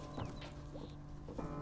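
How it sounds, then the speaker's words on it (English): Birds clucking in the video game Night in the Woods, a few short chicken-like clucks and chirps at moderate volume over a steady low background hum. "Hello, birds."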